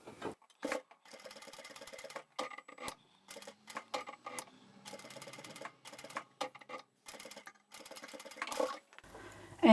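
Sewing machine stitching a fabric scissor keeper pouch in short bursts of rapid mechanical whirring, stopping and restarting repeatedly with brief pauses between runs, close and alone.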